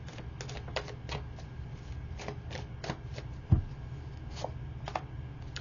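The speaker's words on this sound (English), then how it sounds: "Let me pull a couple more cards on this." Tarot cards shuffled by hand in a quiet room, a close run of soft crisp riffling flutters with one sharper tap midway, no talking.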